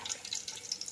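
Hot and cold water is poured together in a home kitchen while cooking, a brief, light splashing trickle at moderate volume.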